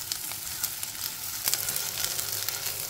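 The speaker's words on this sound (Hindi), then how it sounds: "इनको भी हल्का गोल्डन कलर अपन आने तक फ्राई करेंगे" Onions frying in a pan for an Indian egg masala, giving a steady, close, continuous sizzle with small crackling pops throughout and no talking.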